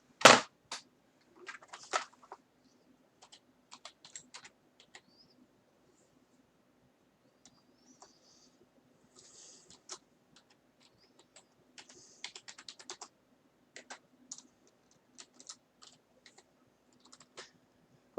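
Keystrokes on a computer keyboard come in short, sparse clusters of quiet clicks with pauses between them, close and soft against near silence.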